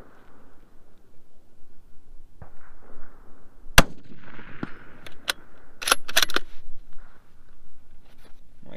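A Remington 700 PCR rifle in 6.5 Creedmoor fires at a steel target outdoors, giving sharp, loud cracks followed by a quick cluster of bright impacts over a quiet background, with no talking.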